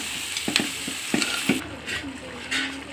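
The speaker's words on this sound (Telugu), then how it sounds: "బెండకాయ పచ్చిమిర్చి వేసేయచ్చు. అన్నీ కలిపేసుకుందాం." Eggplant pieces, okra and green chillies sizzle in a frying pan while being stirred, with irregular scraping knocks of the spoon against the pan over steady frying crackle.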